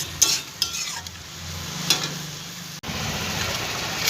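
Greens sizzle and crackle in a wok as a utensil scrapes and stirs them, with a steady frying hiss throughout.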